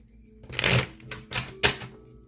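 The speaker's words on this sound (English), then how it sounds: "let me shuffle them" A few quick, papery riffles of tarot cards being shuffled close up, three short bursts in a quiet room.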